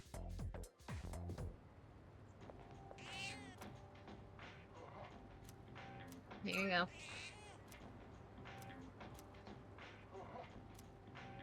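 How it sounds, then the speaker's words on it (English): A cat in Persona 3 Reload meows a few times as it gets fed, with the clearest meow near the middle, faint under game music and chatter. "feed the cat again"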